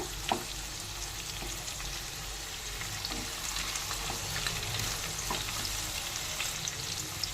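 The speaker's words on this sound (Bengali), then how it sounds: "ফোড়নটা একটু এখানে নেড়ে নেব।" Dried red chili, bay leaf and cumin seeds tempering in hot oil for a pumpkin curry: a continuous, even sizzle with a few light stirring taps, close up and with no voices.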